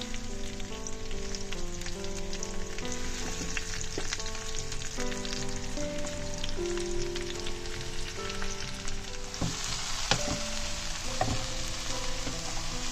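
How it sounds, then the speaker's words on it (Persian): Onion sautéing in a pan, a steady close sizzle and crackle of frying with occasional stirring clicks and scrapes throughout. "پیاز رو میذارم کمی تفت بخوره"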